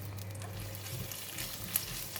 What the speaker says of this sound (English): We just stir fry until the chili paste and the kaffir lime leaves has released the aroma